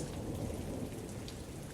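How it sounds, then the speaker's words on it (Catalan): Steady rain pours down outside with low rumbling thunder rolling beneath it, a dense continuous wash of drops on a stormy day, no voices. "només se sent el soroll del barman escopint i la pluja caient al de fora."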